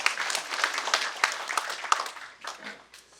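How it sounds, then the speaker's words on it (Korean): An audience at a lecture on Yi Sun-sin leadership breaks into applause, a dense burst of clapping that thins and fades out over a few seconds. "여기서 박수 한번 치실까요?"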